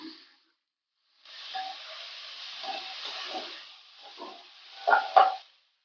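Aubergine (brinjal) and mixed vegetables sautéing in a hot pan, a steady close hiss and sizzle lasting several seconds, with a few louder sputters and crackles near the end.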